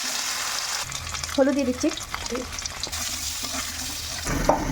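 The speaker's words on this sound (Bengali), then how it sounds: "ওই কড়াইতে আলুগুলো দিয়ে দিচ্ছি" Potatoes frying in oil in a kadai give a steady broadband sizzle throughout, with a brief voice and some stirring and clatter partway through.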